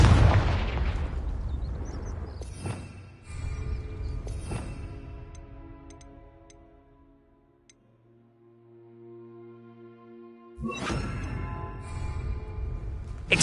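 Confringo spell explosions in the Hogwarts Legacy video game on PS5: several loud, booming blasts with crackling bursts, a quieter ringing lull in the middle, then another heavy explosion near the end.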